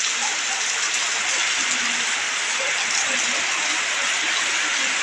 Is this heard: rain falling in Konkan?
yes